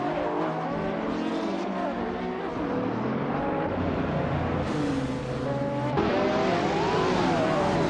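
Supercar-class race cars from around 2000 launching off the line in a racing video game, engines whining and rising in pitch through gear changes, loud and continuous.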